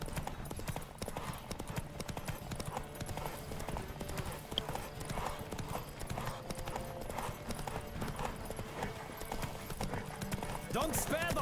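Continuous hoof clip-clop of a galloping horse in The Witcher 3, steady and rhythmic for the whole stretch, with a character's voice calling out over it in places.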